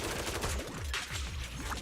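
Rapid bursts of automatic gunfire in a Zenless Zone Zero action game, loud and continuous through the short stretch with quick repeating shots and falling whooshes, with no talk over it.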